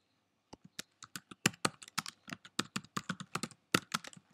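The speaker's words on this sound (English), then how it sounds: "I'm going to just start to type." A computer keyboard is typed on in quick, uneven bursts of crisp, close clicks for several seconds, with no voices.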